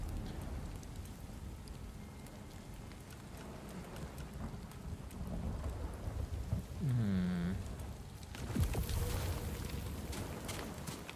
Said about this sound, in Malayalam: ഈ ഒരു ഏരിയ, ഈ ഒരു റീജിയൻ എന്താണെങ്കിൽ ഫുള്ള് നൈറ്റും മഴയും